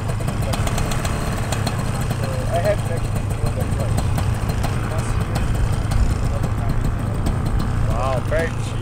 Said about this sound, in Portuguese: O motor do Márcio tá redondinho